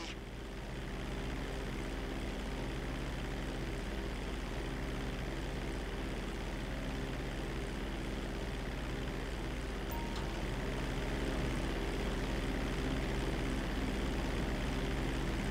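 A propeller airplane in Grand Theft Auto 5 flies in toward a landing strip, its engine a steady, unbroken drone that holds at the same level throughout with no voices.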